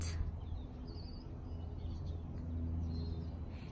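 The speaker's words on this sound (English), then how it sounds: "You can hear the birds chirping." Faint high chirps from birds come and go over a steady low outdoor hum, distant and sparse, with no talking.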